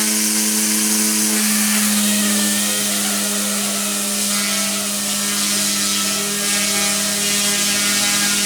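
A WLtoys F05 six-channel, direct-drive, single-blade, dual-brushless RC helicopter runs its motors with the rotors spinning: a loud, steady, close electric whine with a humming drone and no voices.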